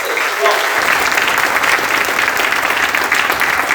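Loud applause fills a business seminar hall. A large crowd claps densely and steadily from start to finish.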